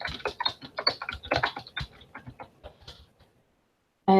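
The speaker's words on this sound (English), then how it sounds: "I can start typing an email address." Quick, irregular clicking of computer keyboard keys as an email address is typed, close and crisp, slowing and trailing off before a final sharp tap.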